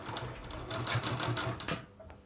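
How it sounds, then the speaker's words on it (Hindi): Sewing machine stitching buckram along the neckline edge of a ladies' suit: a fast, even run of mechanical clatter, close and fairly loud, stopping abruptly near the end. "बिल्कुल उसके सामने से यहाँ से सिलाई की स्टार्टिंग करनी है"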